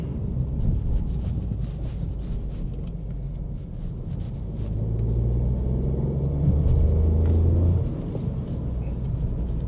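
A low, steady engine rumble with a faint hum from an Opel Corsa Edition, rising a little in loudness midway, heard from inside the car with no talking.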